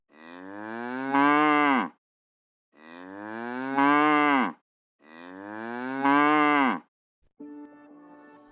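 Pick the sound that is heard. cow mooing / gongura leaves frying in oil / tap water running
cow mooing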